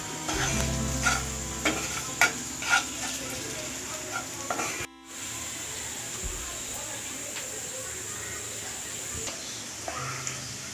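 Chicken biryani masala, just salted, stirred and frying in a pan, giving a steady sizzle with repeated scraping strokes of a spoon, close and moderately loud, with a short break midway.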